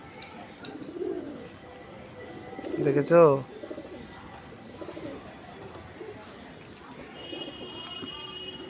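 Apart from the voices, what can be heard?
pet pigeons cooing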